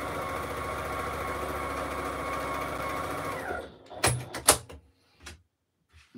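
A sewing machine stitches quarter-inch seams at either end of fabric lining side panels for a flying geese basket, a steady close whirring run for several seconds that stops abruptly, followed by a few sharp handling clicks and knocks.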